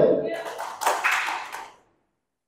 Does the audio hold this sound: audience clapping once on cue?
yes